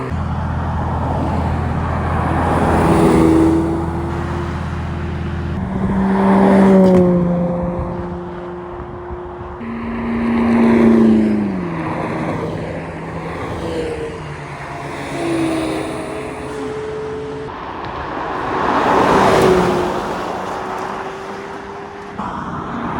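A Gordon Murray T.50 hypercar drives past at Monterey Car Week, its engine note swelling and falling in repeated rising revs over a constant roadside rumble.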